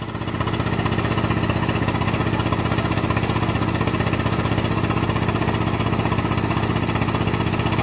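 A blue-tower drilling rig bores into soil 12 metres deep, its bit running into trouble; a steady, loud mechanical engine drone with rhythmic pulsing continues throughout, close and unbroken.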